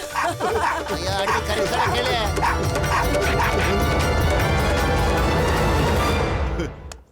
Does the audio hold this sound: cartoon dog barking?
yes